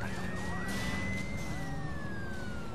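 Police car siren in the Driver Parallel Lines video game wails steadily in a rising and falling tone over a constant low engine and traffic rumble, moderately loud and with no talking.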